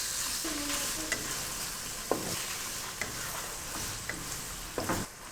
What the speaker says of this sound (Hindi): चिकन को हम लहसुन के साथ फ्राई कर लेंगे।